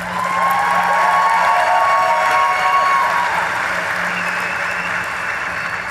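Audience applause with some cheering for SHPE chapters at a national meeting, steady and sustained throughout, with a dense crowd wash and no speech over it.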